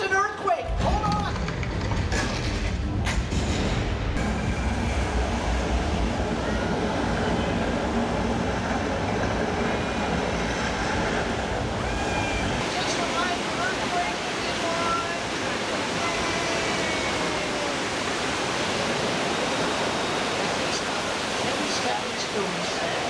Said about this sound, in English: It's an earthquake! Hold on!